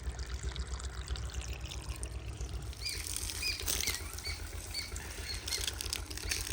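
Irrigation water pours steadily into field beds on a Punjab village farm, a continuous rushing flow with birds chirping over it in the second half.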